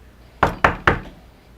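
Three sharp, evenly spaced knocks strike a front door close by at night, each thud ringing out briefly before quiet returns.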